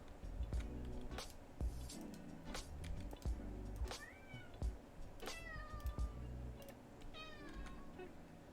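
Gila, a house cat, lets out several short, clear meows close by, spaced a second or two apart, mixed with scattered knocks and thumps in a quiet room.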